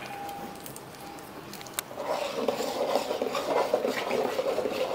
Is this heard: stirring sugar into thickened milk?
yes